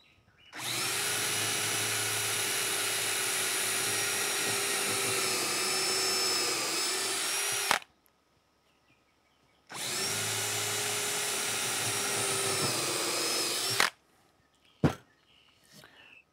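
A power drill bores into wood in two long, steady runs of several seconds each, loud and close, separated by a pause, followed by a few knocks.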